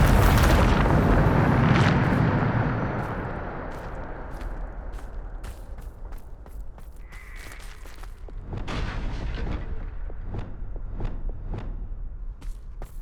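Bombarda spell blasts in Hogwarts Legacy, a heavy booming explosion that rumbles and decays over a few seconds, followed by scattered sharp impacts and crackles as debris settles.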